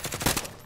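A short rapid burst of automatic gunfire from Call of Duty: Modern Warfare, several close, loud shots in quick succession that fade out within a second.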